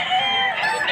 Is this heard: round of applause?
no